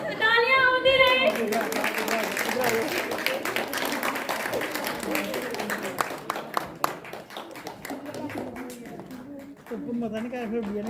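Parents and children at the opening of a kids' play zone break into scattered clapping, with a voice and adult chatter running over the applause throughout.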